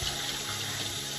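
Tap water runs steadily into a pot being filled for mac and cheese, a continuous close, loud rushing splash with no talking.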